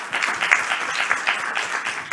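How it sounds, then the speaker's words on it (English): Brief, moderately quiet audience applause at a university symposium session in Tilburg, a steady patter of many hands clapping with no voices over it. "Applause again."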